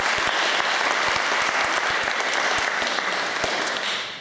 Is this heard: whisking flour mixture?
no